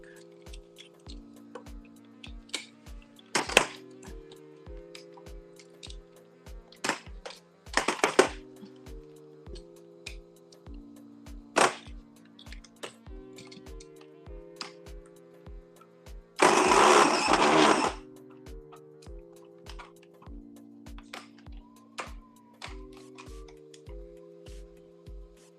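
Addi Express knitting machine worked by hand crank, a steady run of rhythmic clicking ticks with louder clacks and a brief harsh burst of mechanical noise midway as the machine strains.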